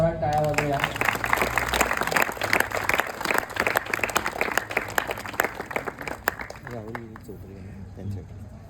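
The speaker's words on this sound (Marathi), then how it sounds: "या सर्व लोकांसाठी आपण एकदा जोरात टाळ्या वाजवूया" A crowd at a March 2025 gathering applauds guests for several seconds, dense steady clapping with an announcer's voice and music running underneath, then tapering off near the end.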